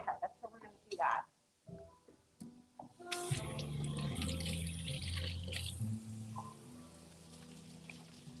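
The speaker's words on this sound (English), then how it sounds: "make sure you're washing your hands so that way your food isn't very germy" A kitchen tap runs for hand washing while cooking, a steady close rush of water that starts partway through and keeps going, following some clatter and talk.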